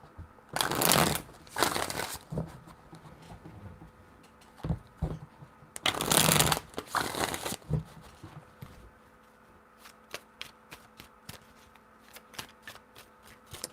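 Tarot cards are shuffled close up: two loud riffling bursts, a pause, two more, then a run of quick light taps and flicks as the deck is squared.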